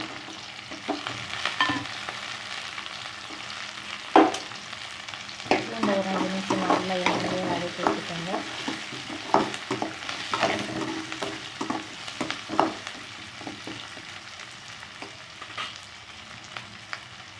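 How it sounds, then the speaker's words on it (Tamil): Shallots and garlic sautéing in a pan sizzle steadily throughout, with frequent scraping stirs and spoon clinks in an irregular rhythm, close and moderately loud, no voices. "சின்ன வெங்காயம் போட்டுக்கோங்க நல்லா வதக்கி விட்டுக்கலாம் இப்போ பூண்டு போட்டுக்கலாம்"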